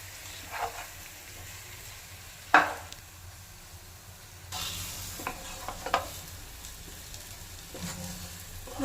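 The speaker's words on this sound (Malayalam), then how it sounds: "നല്ലപോലെ ഇന്ന് മിക്സ് ചെയ്ത് നല്ലപോലെ ഇളക്കി യോജിപ്പിക്കുക" Masala-coated chicken for chicken kabsa being stirred and mixed in a pan, with intermittent scraping spoon strokes and sharp clatters over a low background sizzle, close and without talk.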